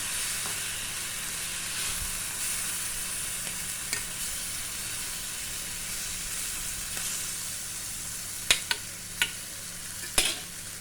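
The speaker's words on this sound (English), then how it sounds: "and I'm going to add my callaloo. And we just stir this." Callaloo sizzling in hot oil in a pot, a steady soft hiss throughout, broken by a few faint scraping clicks of stirring toward the end.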